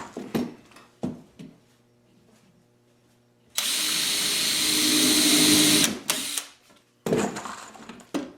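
A power drill drives screws into wood while a kitchen upper cabinet case is assembled, starting with short ticks and knocks, then a loud sustained whir for a few seconds, and ending with another brief burst.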